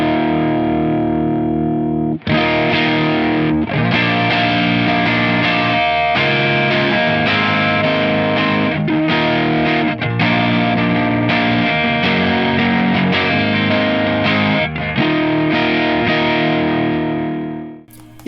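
An electric guitar runs through a VS Audio Royal Flush dual overdrive pedal, giving loud, saturated, compressed chords that ring out in sustained strums with brief breaks, then fade at the end; no voices.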